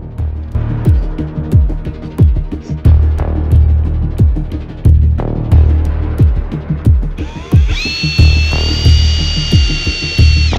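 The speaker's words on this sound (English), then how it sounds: "So we're gonna have to drill 4 holes out for these pipes to go in." A handheld power drill bores holes in metal roof rack corner brackets during a van install, with repeated short bursts and ratcheting pulses, then a sustained high whine near the end, close and loud with no talk.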